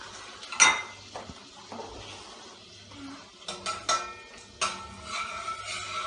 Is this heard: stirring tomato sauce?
yes